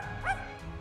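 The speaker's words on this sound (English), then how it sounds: "It has ears and it barks." A ghost dog in the Twisted Wonderland video game gives one short, faint bark that rises briefly over steady background game music.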